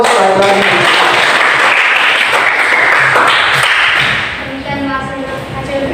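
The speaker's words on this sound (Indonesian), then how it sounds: "berikan aplaus lagi" A classroom of students claps for several seconds, dense, loud applause that tapers toward the end as a voice begins speaking over it.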